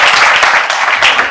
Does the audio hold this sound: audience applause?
yes